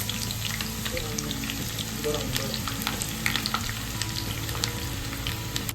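Onions fry on high flame in a large pan of hot oil for hotel-style biryani, a loud, dense, continuous sizzle with occasional crackles and stirring scrapes over a low steady hum.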